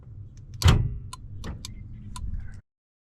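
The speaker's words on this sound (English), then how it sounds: "You can hear in the module the relays clicking and working on the inside." In an OBS-era Ford, an add-on keyless entry module's relays click as the door locks actuate. There is one heavier thunk, then a scatter of sharp, close ticks over a low hum, and everything stops abruptly.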